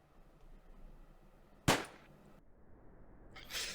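A single sharp gunshot fires on a mouse click in the video game White Hell, sudden and loud against a quiet background, followed by fainter hissy noise.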